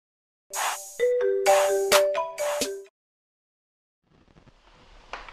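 A mobile phone's electronic ringtone plays a bright, melodic chime pattern in several loud bursts. The ringing cuts off abruptly, followed by silence and then faint rustling.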